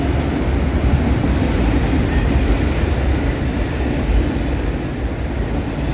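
A CSX mixed freight train, led by a Dash 8 locomotive and hauling an autorack, rolls past at speed on a main line, giving a steady, loud rumble and rattle of cars without a break, with no voices.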